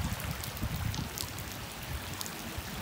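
A taxi pushes through flood water on a rainy street in Neuquén, sending up a continuous wash of sloshing, splashing water heard at a moderate distance, fairly faint and without talking.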